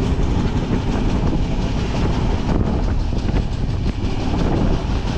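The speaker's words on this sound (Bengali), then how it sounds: "ট্রেন চলে যাচ্ছে তিরুচিরাপল্লী লাইনে" The Rameswaram–Bhubaneswar 20895 weekly express rolls along the rails on a single diesel line, a loud continuous rumble with rhythmic wheel clatter and wind buffeting, heard close from on board.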